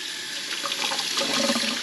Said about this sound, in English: Let's check the sink over here.